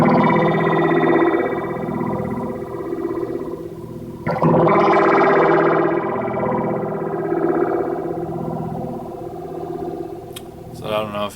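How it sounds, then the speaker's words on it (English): A guitar runs through a BYOC Flying Pan phaser pedal set to high feedback and slow panning, giving a loud, distorted, swirling sweep that rises and falls. A sharp surge near the middle is followed by a slow fade. "the most obnoxious phasing sound that we can get"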